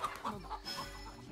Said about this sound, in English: Those damn chickens will make it impossible.